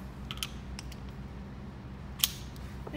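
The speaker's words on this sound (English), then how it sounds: "Let's set our scale at 20 foot-pounds. Let's assemble our wrench." A torque wrench is assembled at close range with a few small mechanical clicks and creaks and one sharper metallic tick, quiet against a low background hum, with no talk.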